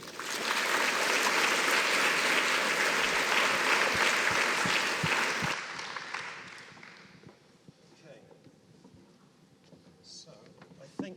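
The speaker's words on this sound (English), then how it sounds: "Please welcome them with a big round of applause" Loud, dense applause from a conference audience greets a design panel, sustained for about five seconds, then cutting off abruptly to quieter room noise with faint talk.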